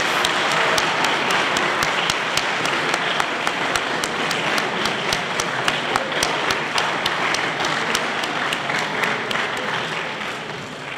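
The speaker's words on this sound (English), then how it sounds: "I would like to ask for one more round of applause for all our distinguished" An audience at a high school alumni day ceremony applauds steadily, a dense wash of many hands clapping that holds at full volume throughout.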